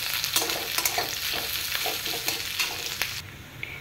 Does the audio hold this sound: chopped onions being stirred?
yes